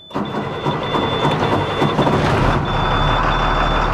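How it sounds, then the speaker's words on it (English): Class B truck engine starting and settling into a steady loud idle, with a constant high reversing-style beep running alongside and a deepening low rumble near the end. "once we restart the engine, we're going to perform our in-cab inspection"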